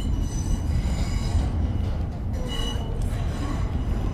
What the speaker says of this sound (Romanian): Deci ăsta e metrou care o să-l luăm